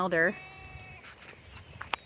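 A sheep grazing on weeds lets out one short, nasal bleat at the very start, followed by faint rustling and small clicks; a person talks around it.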